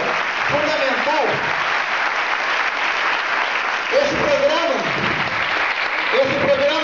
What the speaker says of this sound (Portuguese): eu quero pedir muitas palmas aqui para o Jorge